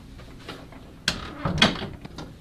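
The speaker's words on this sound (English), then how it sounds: "could you just close that door for me?" An interior door is pushed shut in a room, a sharp knock followed by a second thud and a short latch rattle, fairly close and clear with no talking.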